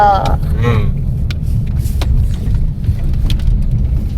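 A milk van drives past on a road at night, a deep engine rumble rising and lingering nearby while people chat close by over it.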